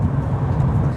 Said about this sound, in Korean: 판매되고 있는 하이브리드 모델 중에서 배기 사운드가 가장 매력적이고